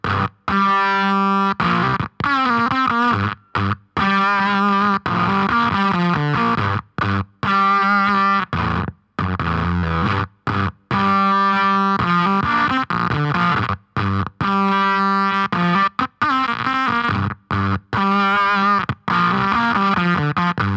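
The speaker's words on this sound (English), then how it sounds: "you can also get those really cool starving battery kind of sounds when you roll back on the bias control" Electro-Harmonix Cock Fight Plus fuzz pedal with its bias rolled back, giving a sputtering, starved-battery fuzz on guitar as chords and notes cut in and out in short bursts, loud and alone.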